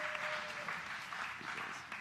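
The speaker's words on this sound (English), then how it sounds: "Can you give one more round of applause to Solomon, please?" Sustained applause from a crowd, an even wash of clapping throughout, heard from a distance and moderately quiet.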